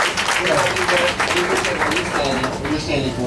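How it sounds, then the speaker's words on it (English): Steady clapping from a sizable crowd at a smokehouse political event, loud and continuous, with voices and cheers mixed into the applause. "Let's give them a big round of applause and thanks for their generosity."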